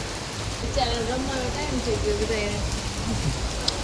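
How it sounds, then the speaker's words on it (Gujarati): Steady rain falls in Valsad during a thunderstorm, a dense continuous patter on surfaces with voices talking faintly underneath. "વરસાદ ચાલુ થયો"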